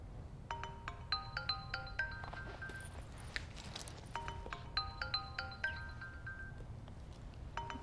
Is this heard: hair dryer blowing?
no